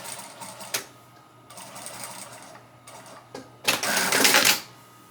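A sewing machine back stitching a fleece sherpa blanket, running in short mechanical bursts with pauses between, ending in a louder, faster run.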